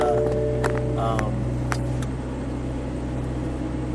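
Exhaust note of a 2021 Toyota Supra GR A91 Edition, a low steady idle rumble heard from inside the car, with talk over it.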